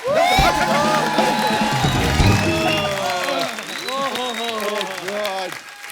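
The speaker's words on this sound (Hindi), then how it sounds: "एक बार जोरदार तालियां हमारे मेहमानों के लिए।" Studio audience at a comedy talk show applauding and cheering for arriving guests, dense loud clapping mixed with whoops and shouts, with a loud voice talking over it.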